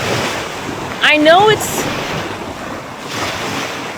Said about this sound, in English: the water's really loud for a second